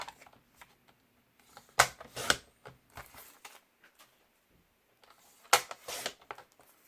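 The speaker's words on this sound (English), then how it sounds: "Then I'll take my paper cutter and trim this down." A paper cutter trims card paper in a sequence of sharp swishing slices and clicks, spread over several seconds with gaps of quiet between, close and dry, with no talking.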